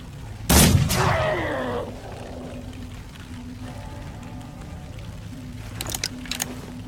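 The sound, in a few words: gunshots fired in a video game match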